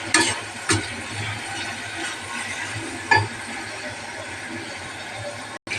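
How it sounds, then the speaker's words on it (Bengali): Spices being fried and stirred in a pan after red chili powder and coriander powder go in, a steady low sizzle with a few sharp scrapes of the spoon, close by with no talking. "এবার এটাকে আমি ভালো করে ভেজে নেব"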